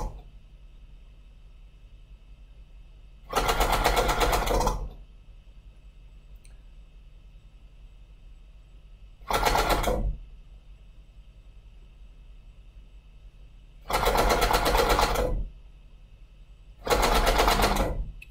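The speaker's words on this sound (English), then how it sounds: "as soon as I hit the spacebar, the word is embossed" A Mountbatten Brailler embosses braille in four loud mechanical bursts, each a dense chattering rattle lasting roughly half a second to a second and a half, separated by quiet stretches with a faint steady hum.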